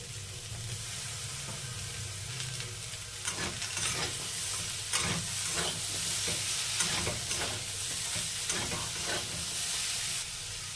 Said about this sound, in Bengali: বেগুন দিয়ে ভালোভাবে কষে নিয়েছি